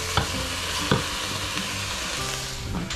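A dish fries on a home stovetop, giving a steady close sizzle broken by a few sharp stirring clicks.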